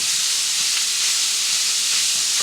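Ground beef, 80% lean, browning in a pan, giving a loud, steady, dense sizzle that holds throughout without a break, close to the mic and with no talking over it.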